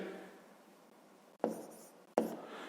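Pen strokes writing out a fifth-grade math solution, two sharp scratchy bursts near the end after a quiet stretch of faint room noise, close and alone with no talking.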